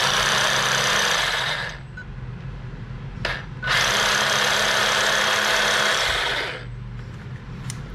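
Panasonic 28.8V cordless rotary hammer running slowly in hammer mode, a loud steady buzzing clatter that stops briefly near the middle, restarts and then winds down to a quieter hum.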